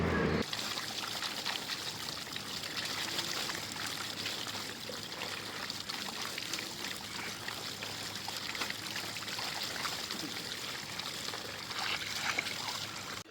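Water pours steadily for a bath on a cold day, a continuous close splashing rush that holds at an even level for the whole stretch with no voices over it.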